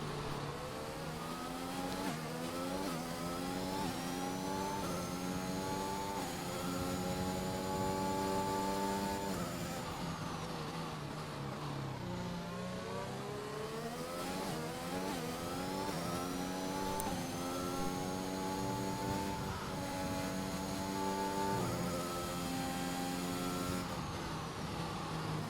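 A McLaren race car pulls out of the pits in a racing game at the Chinese Grand Prix, its engine steadily revving up and down through the gears, then a second climbing run. It is continuous and fairly close, with no talk.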